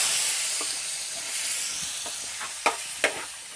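Sisig sizzling in a hot pan while being stirred and mixed, a steady frying hiss with a few sharp scrapes and clacks of the utensil against the pan near the end.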